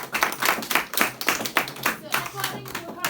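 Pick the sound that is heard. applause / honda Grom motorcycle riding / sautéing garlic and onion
applause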